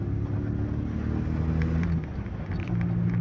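An old Fiat Uno engine drones with a steady low rumble, then dips and surges briefly as the gear changes, heard loud and close with no talk.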